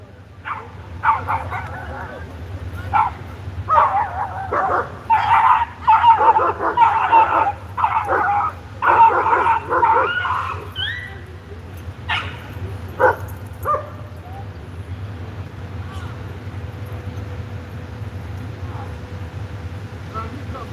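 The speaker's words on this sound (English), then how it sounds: "Dog fight." Several dogs outdoors break into a fight, with loud overlapping barks, yips and whimpers in a dense burst, then scattered barks that taper off over steady low background hum.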